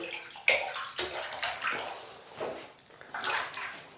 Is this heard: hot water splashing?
yes